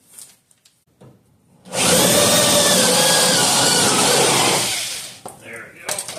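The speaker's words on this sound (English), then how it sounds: "I missed a spot weld right next to another spot weld here, so I gotta drill that out." Up close and loud, a drill grinds steadily through a missed spot weld on the body of a 1968 Dodge Charger during an AWD body swap, a sustained metallic whine lasting a few seconds, with faint handling noises before and after.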